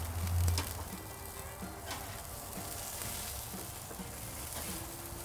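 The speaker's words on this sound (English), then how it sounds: "As the olive oil drips down, you're going to get a little bit of flare up." Shishito peppers blistering on a grill as dripping olive oil flares up, a steady crackling sizzle with scattered pops, close and continuous with no talking.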